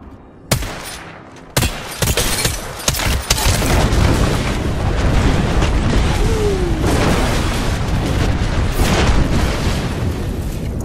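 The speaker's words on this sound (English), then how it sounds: "Signaling an airstrike." Airstrike explosions in the Apex Legends video game: a few sharp blasts open, then a heavy, sustained rumble of booms and detonations rolls on loudly to the end.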